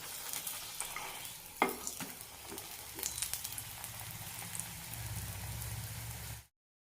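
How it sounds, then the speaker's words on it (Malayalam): Oil sizzles steadily as a potato paratha fries on a hot tawa, a soft crackling hiss with a few scraping touches that fades out abruptly at the end. "രണ്ട് സൈഡും നന്നായി മൊരിയിച്ചെടുക്കണം."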